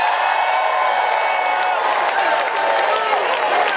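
A large audience at a live concert bursts into dense, sustained applause and cheering, a loud steady wash of clapping and crowd noise with scattered whoops throughout.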